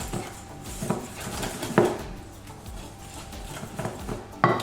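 Whisk or spoon scraping and tapping against a bowl while eggs are mixed with a coffee extract of water and instant coffee, with soft irregular clinks and a few sharper knocks, close and moderately quiet.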